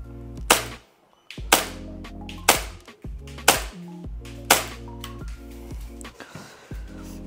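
A Tokyo Marui Hi-Capa 5.1 airsoft pistol fires five sharp, close shots at roughly one-second intervals, each crack followed by a brief ringing tail, with no talking.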